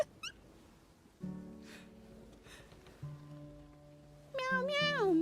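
A cat meows a few times near the end, high and wavering, over soft steady background music tones.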